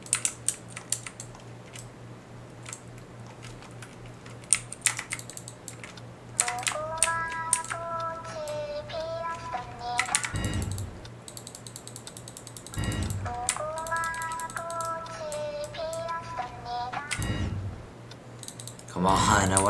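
Keyboard keys clatter in quick bursts of typing during a Roblox game session, crisp and close, mixed with game sounds and occasional talk.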